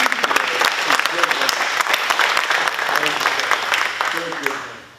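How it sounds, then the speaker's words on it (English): Dense audience applause at a community meeting with the governor in Charles Town, sustained crowd clapping with a few voices mixed in, tapering off at the end. "Y'all give him a big round of applause."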